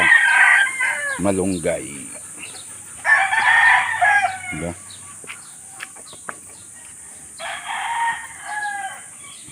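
Chickens on a farm in Negros cluck and crow loudly nearby, with several long crowing calls and scattered clucks between them, while people talk briefly in the background.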